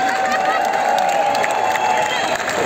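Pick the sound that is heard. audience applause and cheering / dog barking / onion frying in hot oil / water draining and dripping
audience applause and cheering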